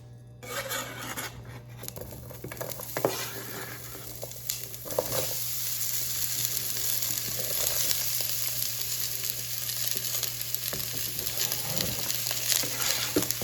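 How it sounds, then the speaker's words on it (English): Onions and peppers hitting hot oil in a pan and cooking, a loud, steady crackling sizzle with occasional stirring scrapes, heard close and without talk, building after a few quieter seconds at the start. "So I'm just gonna put a little bit of oil in this. Cook my veggies. It's nice and hot."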